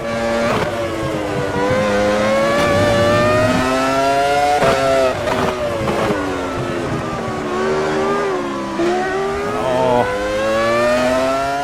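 The 2001 Ferrari V10 Formula 1 car screams continuously in the Automobilista 2 racing sim, its high-pitched revs climbing and dropping with rapid gear shifts, loud and close with no talk.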